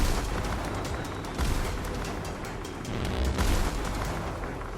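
Sustained battle barrage of artillery fire aimed at enemy airships in an audio drama, with dense overlapping booms and rumbling blasts, loud and continuous with surges partway through.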